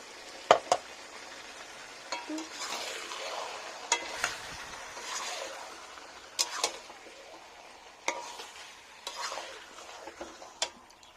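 Tomato and green chilli paste fries in a pan of curry with a soft steady sizzle, broken by repeated clinks and scrapes as a spoon stirs against the pan.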